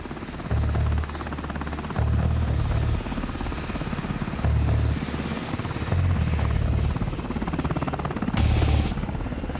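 Black Hawk helicopters approach with a steady, heavy rotor thump and turbine whine that holds throughout, the low blade beat swelling in periodic loud pulses, with no voices.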